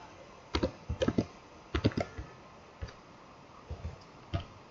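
Fingers tapping out an ID and password on a computer keyboard, a few short clusters of crisp key clicks with brief pauses between them, close and quiet, no talking.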